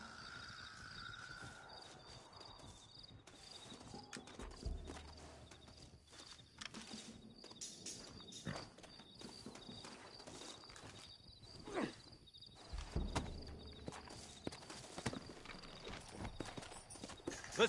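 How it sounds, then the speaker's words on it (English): Horse hooves clip-clopping in the Western video game Red Dead Redemption, a faint, uneven run of hoof steps on ground against quiet ambience, with occasional louder thumps and no talk. "Looks like Carlos left us some horses."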